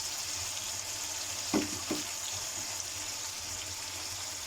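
Masala with turmeric and red chili fries in a pan for a cabbage sabzi, giving a faint, steady hiss with two brief soft knocks partway through.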